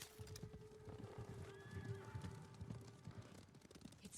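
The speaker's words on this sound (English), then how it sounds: "Horses, they're coming for us" Horses approaching in the Ghost of Tsushima video game: a whinny rises over steady clip-clopping hooves against an ambient backdrop.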